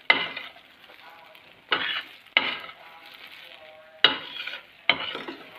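Podi idli tossed in a pan to coat it, hotel style: five rhythmic scraping tosses with sizzling and metallic stirring, each burst fading before the next.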